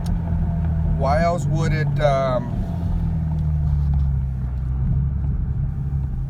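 Kia Stinger engine idling with unsteady revs, as if from a boost leak, a low continuous rumble that wavers in pitch, with someone speaking briefly over it.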